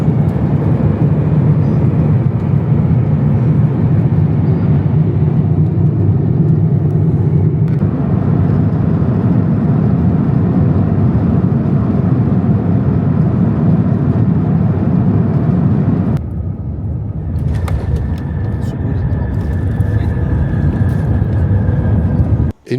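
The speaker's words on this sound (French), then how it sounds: "atterrissage à Las Vegas" A passenger airliner lands at Las Vegas, heard from inside the cabin as a loud, steady broadband roar that shifts in tone partway through, then gives way to a lower rumble with a faint whine.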